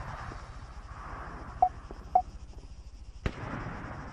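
Long-range sniper rifle fire in Arma 3, heard as two sharp distant shots followed by a louder crack, set against a quiet low ambient hum.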